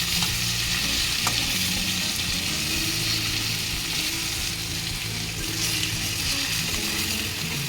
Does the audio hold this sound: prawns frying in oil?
yes